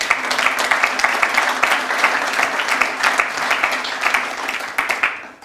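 Loud, dense audience applause fills a room at a Labour Friends of Cyprus gathering in London, continuous clapping from many people that holds steady before dropping off at the end.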